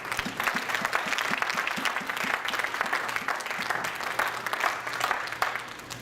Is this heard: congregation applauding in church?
yes